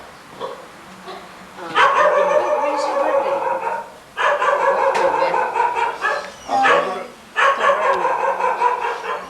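A dog named Brownie barks in several loud, sustained bursts close by, with whimpering yips between them, while people talk alongside.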